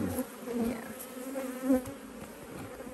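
Honey bees buzzing at a hive during honey extraction, a close, wavering drone with individual bees passing near, while a voice briefly speaks.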